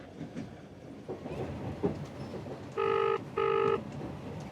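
The Trans-Siberian Express rumbles along its rails in a low, steady rolling clatter, broken midway by two short, loud electronic beeps in close succession.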